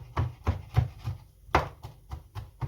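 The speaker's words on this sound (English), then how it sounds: "you just want to keep chopping and chopping and chopping at your black pudding until it crumbles up nice and fine" A knife chops black pudding on a board to crumble it fine for Scotch eggs, about nine dull, uneven thuds in a loose rhythm, close and fairly soft.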